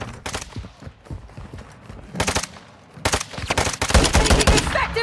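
Gunfire in Call of Duty DMZ: bursts of rapid shots, some close and loud, separated by short pauses and then growing into a sustained exchange.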